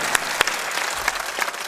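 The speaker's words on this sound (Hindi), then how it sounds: "इसलिए ताली थोड़ा दमदार मारा" An audience claps steadily at a spiritual discourse, a dense, continuous patter of many hands at even loudness with no voices over it.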